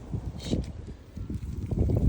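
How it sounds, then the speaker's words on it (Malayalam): Outdoor wind gusts buffet the microphone in a garden of leafy greens, producing low, blustery rumbling that rises and falls over two seconds, fairly close and loud. "അയ്യോ കാറ്റുണ്ടോ"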